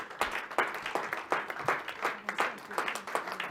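A church congregation at a conference in Kinshasa claps together in a steady rhythmic beat, a dense moderately distant applause with no pause.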